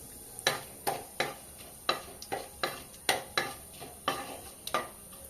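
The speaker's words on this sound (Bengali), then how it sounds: "তেজপাতা জিরে এলাচ দারুচিনি লবঙ্গ ফোড়ন দিয়ে দেবো" Bay leaf, cumin, cardamom, cinnamon and cloves tempered in hot oil for a chal potol dish: a low sizzle under a steady run of about a dozen sharp spoon scrapes and clinks against the pan, close and clear, with no talk.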